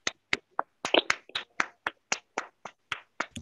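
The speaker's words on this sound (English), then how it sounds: "can we give our friend a very big hand clap?" Hand claps during an online class, a dozen or so sharp, close claps in an uneven rhythm with short gaps between, some doubled, against near silence.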